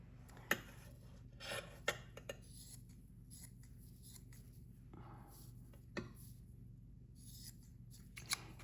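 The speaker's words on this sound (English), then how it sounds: "I'm gonna go ahead and kind of roughly cut the length of my paper." Tracing paper being roughly cut to length with scissors, giving a few quiet, scattered snips and crisp rustles at close range against a low steady hum, with no talking.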